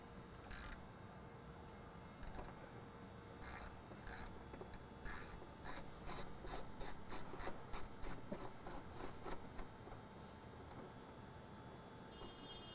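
A ratchet with a 10 mm socket turns a bolt on a 2016-2024 Nissan Titan XD, giving a series of rapid clicking bursts that speed up through the middle, faint over background hiss.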